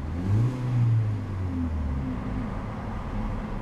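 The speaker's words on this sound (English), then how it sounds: "A very racy sounding exhaust from that central mounted exhaust port at the back." A 2014 Hyundai Veloster ReFlex with a center-mounted rear exhaust revs up, two quick rising throttle blips followed by a steady deep exhaust drone, loud and close with no voices.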